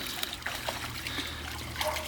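A dog wading into water: light trickling and small splashes with a few brief splatters, close and fairly quiet over a steady low background.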